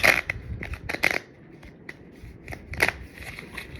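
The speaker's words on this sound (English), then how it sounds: "One last shuffle for the Libras." Tarot cards being shuffled up close, with several crisp riffling and flicking bursts spread across the moment and quieter rustles between them. No one talks.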